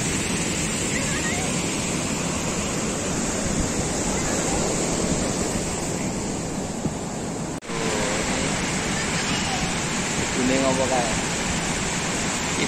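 Ocean surf breaking on a beach on the south coast of Yogyakarta, Gunung Kidul, a loud continuous wash of waves with wind, while people talk faintly in the background.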